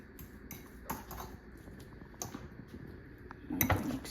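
Avocado sandwich filling with coriander and salt being mixed in a bowl, light irregular clinks and scrapes of a utensil against the dish, faint and close, with one louder knock near the end.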